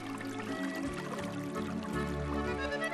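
Water trickling and pouring over a spring stream in the Härjedalen hills of Sweden in 1948, with steady babbling close by and nobody talking.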